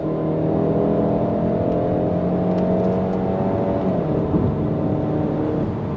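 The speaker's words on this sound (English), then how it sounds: "pulling away from the light, I'm ready to go on throttle if you're ready. On throttle, here we go. 9-speed drops down and we are off and running" 2024 Cadillac XT4 all-wheel-drive compact luxury SUV pulling away from a stop at full throttle, its 9-speed automatic shifting; a steady whirring engine drone heard from inside the cabin, rising in pitch and then dropping as it shifts up.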